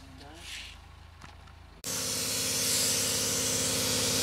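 A spray gun lays the first coat of white paint on the roof of a 1954 Chevy. After a quiet opening with faint voices, a loud, steady hiss starts abruptly and holds to the end.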